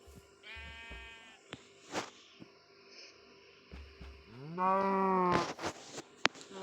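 Minecraft cows moo in a survival game on a cow and sheep farm, two drawn-out harmonic calls, the second louder and longer, with scattered clicks and thuds between them.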